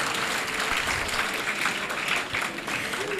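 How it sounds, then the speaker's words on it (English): Sustained round of applause from a crowd of new students at a faculty orientation, a dense, even wash of clapping lasting the whole stretch at moderate loudness. "give a round of applause for your dean"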